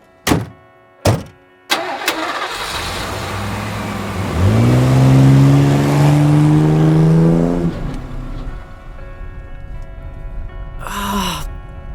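A truck engine starts up after a few solid door thumps, then revs loudly and holds a strong, steady drone as the vehicle pulls away, fading somewhat at the end.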